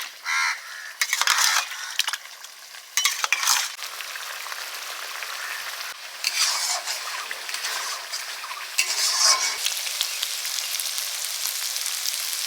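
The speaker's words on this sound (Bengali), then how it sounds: "আলুটা আর একটু ঘেটে দিচ্ছি ওপর মিক্স করে দিচ্ছি" Potatoes fried in a pan with ground tomato, onion, ginger and garlic paste, giving steady sizzling broken by irregular scraping bursts of stirring, close and continuous.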